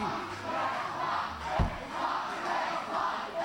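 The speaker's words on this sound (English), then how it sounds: "Crowd chanting for X-Pac." A large wrestling crowd chants "X-Pac" in a steady rhythmic roar, with a single dull thud partway through.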